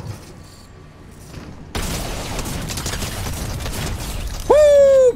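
Combat SMG from Fortnite Chapter 3 Season 2 firing as a loud, dense burst of rapid shots after a quieter opening, ending with a bright rising whine.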